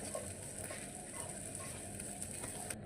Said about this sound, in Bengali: এদিকে মরিচগুলো হালকা করে একটু টেলে নিতেছি